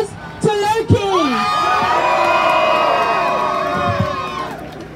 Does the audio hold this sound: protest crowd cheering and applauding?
yes